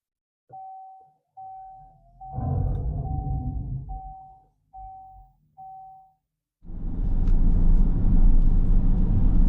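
A 2024 Dodge Charger Daytona sounds a series of short electronic chime tones, then a sustained low rumble of the car moving off and driving.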